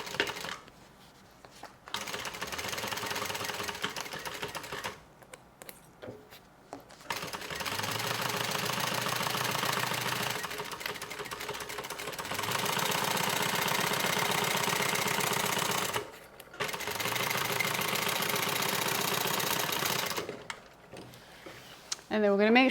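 A sewing machine stitches the lining of a Prada-style tote bag at a half-inch seam allowance, running in several steady whirring bursts separated by short pauses, close and fairly loud.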